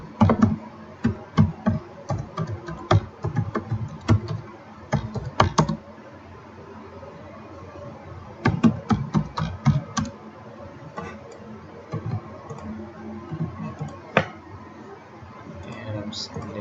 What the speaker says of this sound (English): and let's type